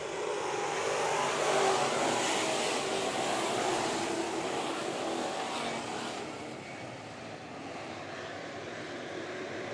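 IMCA sport mod race cars restarting at Bakersfield Speedway, a dense continuous engine roar from the pack that swells early and slowly eases off, heard from a distance.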